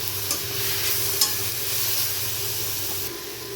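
Tomato and coriander leaves frying in oil in a pan for mutton keema curry, a steady close sizzle with stirring scrapes and a few brief clinks, no voices.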